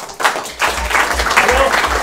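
Audience applause breaking out at a German election event, bursts of clapping mixed with a voice talking over them.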